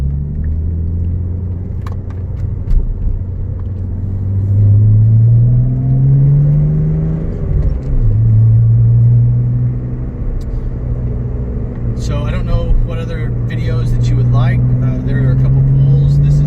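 A 1999 BMW M Coupe with a turbocharged engine idling and revving, a deep rumbling drone rising and falling in pitch over several throttle sweeps, with a faint jingle of keys near the end.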